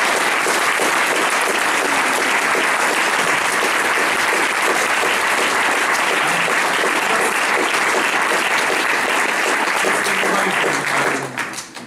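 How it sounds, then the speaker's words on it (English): Hustings audience applauds election candidates with loud, sustained, dense clapping that runs for several seconds before tapering off abruptly at the end. "So give them a round of applause."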